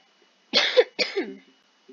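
Two quick, close coughs in a row from a person with a cold, sharp and harsh, in an otherwise quiet room.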